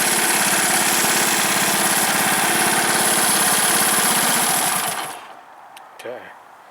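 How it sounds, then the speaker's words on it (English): A 1970s Honda ATC three-wheeler's small engine runs right after starting, a loud rapid chugging putter that cuts off abruptly near the end, leaving faint clicks and quiet background. "Fired right up."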